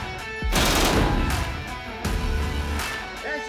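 A 240 Bravo 7.62 machine gun fires two loud, close bursts of rapid shots lasting just under a second each, followed by a short final burst, with echoing tails between them.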